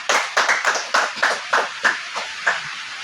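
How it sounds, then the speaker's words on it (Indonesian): A small group in a classroom claps, a handful of close, sharp hand claps in a loose, uneven rhythm over about three seconds. "Kita berikan aplaus dulu."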